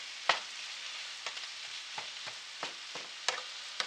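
Ground meat browns in a pan with a soft, steady frying hiss, broken by several sharp scraping stirs spaced about half a second apart, fairly quiet overall.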